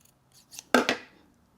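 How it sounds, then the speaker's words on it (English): Scissors snip through moleskin fabric up close: two quick light blade slides, then one louder crisp cut that fades within half a second, with no talking. "We can measure up the size of the fabric, and so I'm just gonna cut off the side here."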